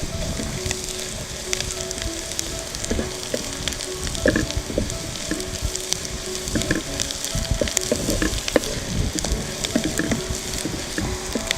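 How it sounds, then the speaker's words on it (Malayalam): Chopped capsicum sizzling in a hot pan for a soya egg fry roast, a steady crackling fry with scattered pops and occasional stirring scrapes, close and moderately loud with no talking. "ഇനി ഇതിലേക്ക് നമ്മൾ അരിഞ്ഞു വെച്ച ഒരു ക്യാപ്സിക്കം ഇട്ട് കൊടുക്കാം."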